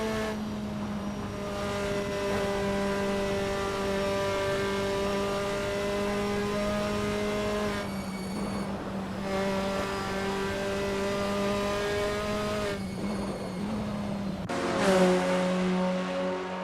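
A Formula 4 race car engine in the Assetto Corsa racing game at Zandvoort, a loud steady whining drone that climbs in pitch, broken by brief dips at gear shifts as it crosses the start-finish line, with no talk.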